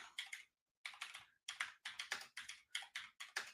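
Rapid bursts of key clatter from a computer keyboard, typed in quick clusters separated by short pauses, close and fairly crisp with no voices.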